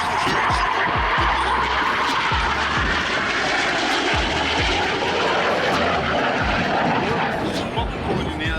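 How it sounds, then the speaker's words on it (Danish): A Finnish Air Force trainer jet flies a solo low-level display at the Roskilde Airshow 2023. A loud, close, continuous engine roar fills the whole stretch without letting up. "Valmet Vinka og BA Hawk. Således har den finske luftvåbens trænerfly haft 2 formationer at sige."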